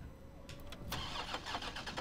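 A car's engine cranks and catches in Resident Evil 3, a faint quick starter whir that turns into a running engine rumble with short rhythmic revs, with no speech.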